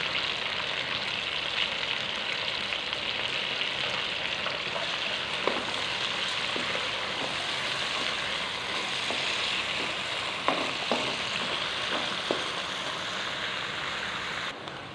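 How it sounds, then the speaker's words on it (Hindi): Onions frying and browning in a pan, a steady close sizzle running the whole time, with a few faint clinks of stirring. "इसके साथ शामिल करूँगा मैं प्याज, और प्याज को हमें अच्छे से ब्राउन कर लेना है।"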